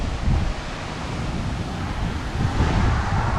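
Strong storm wind blows steadily around a house in Mississippi bad weather, a loud continuous roar with gusting surges and buffeting against the microphone, heard alone without talk.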